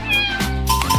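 A cat meows once, a loud, close, drawn-out cry with a rising and falling pitch.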